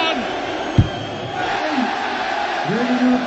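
A darts crowd at a Premier League match between Raymond van Barneveld and Gary Anderson keeps up a loud, continuous roar with chanting and whoops throughout.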